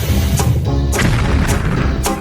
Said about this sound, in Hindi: लगता है अलग अलग स्वाद का विस्फोट।